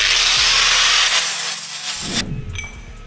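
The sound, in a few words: grinding a metal part for a turbo build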